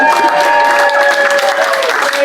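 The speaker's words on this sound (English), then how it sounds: "Let's give him the round of applause now" An audience at a campaign kickoff event gives a round of applause. Dense, steady clapping fills the short stretch at close range, with a voice or tonal sound running faintly underneath.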